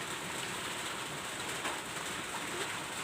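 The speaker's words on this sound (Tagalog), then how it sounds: "Kasi umuulan na." Steady rain falling in a rural provincial setting, a continuous even hiss of drops on surfaces with faint scattered taps and no voices.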